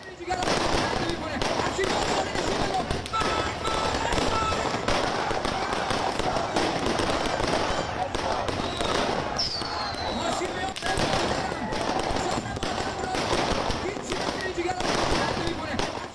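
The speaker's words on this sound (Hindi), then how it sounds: "पटाखे छोड़े जा रहे थे, आतिशबाजी हो रही थी ईरान में" Fireworks and firecrackers go off in Iran as continuous dense crackling and popping, a sustained barrage of sharp bursts at even loudness throughout.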